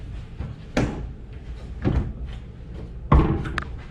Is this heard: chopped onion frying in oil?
no